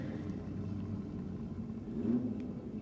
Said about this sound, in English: As the mighty Mazda takes on the Trans Am.